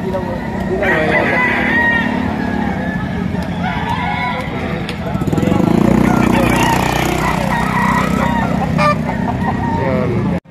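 Roosters crow repeatedly at a gamecock market, several calls overlapping with clucking and background engine noise while someone talks over them.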